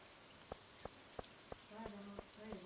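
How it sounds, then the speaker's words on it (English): Rain falls steadily in the video game Stardew Valley, a constant hiss that carries a series of sharp, evenly spaced clicks, and near the end there are brief tonal blips. "Is it still freaking raining outside?"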